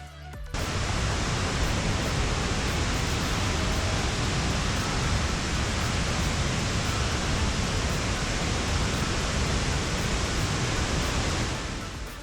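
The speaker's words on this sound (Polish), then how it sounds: "Wodospad Laco ma wysokość około 12 metrów i jest najwyższym wodospadem Belgii." The Coo waterfall in Belgium, about 12 metres high and the country's tallest, pours in a steady, full roar of falling water that holds evenly for the whole stretch with no talk.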